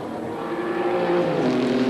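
Race cars at a 1989 Amaroo Park race produce a close, steady engine drone that swells slightly toward the end.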